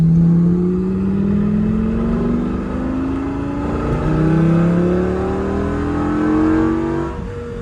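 Lamborghini Gallardo engine heard from inside the car as it drives and slows, its tone rising and dropping through automatic gear changes, loud and steady throughout with no one talking.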